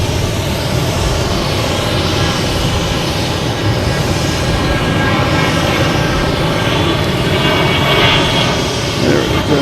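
A jet aircraft engine roars at Boston Logan Airport, a loud broadband rumble holding steady and swelling slightly toward the end, with no break.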